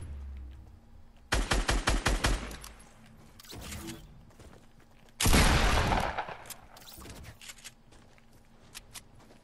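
Video game gunfire comes in two sharp bursts of rapid automatic shots, one lasting about a second and a later, louder one, separated and followed by quiet clicks and scattered faint noises.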